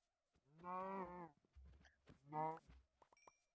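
Two drawn-out cow moos from Minecraft, blocky game cattle, sound in close succession with a short gap, each a loud harmonic lowing call, followed by a few small clicks and blips.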